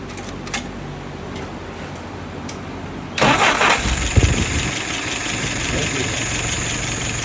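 A tuned motor sits quiet, then cranks and fires abruptly partway through, catching at once with a loud rush and settling into a steady, close running drone for the remainder.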